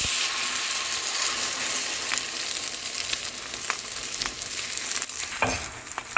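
Beaten egg spreads and fries in a hot pan for an omelette, producing a loud, continuous close-up sizzle with scattered crackles and a few scraping stirs.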